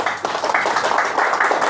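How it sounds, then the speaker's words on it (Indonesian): An audience claps in quick, rhythmic bursts, close and fairly loud, a short spell of many hands striking together. "Coba tepuk tangan"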